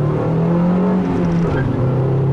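A 2004 Ford Focus SVT accelerating hard in second gear, its engine revving loudly and climbing in pitch close by, with a short tire chirp under the roar and no voices.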